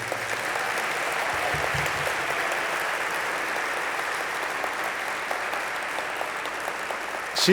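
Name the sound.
audience applause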